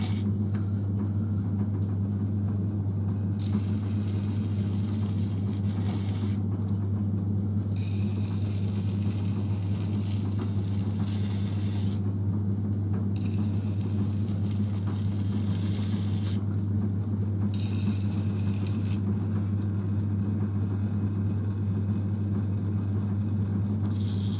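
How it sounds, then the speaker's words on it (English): A pottery wheel hums steadily while a large turning tool trims the bottom of a clay Easter egg; bursts of brighter scraping come and go over the constant motor drone, close and with no speech. "I'll just get my big turning tool out and trim the bottom of this off."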